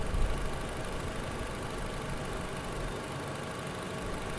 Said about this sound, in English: This is with our engine idle elevated.